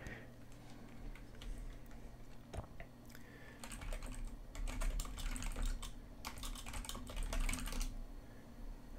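Keyboard typing on a computer, bursts of rapid clicky keystrokes in two main runs with a steady low hum behind, close and moderately loud, no talking.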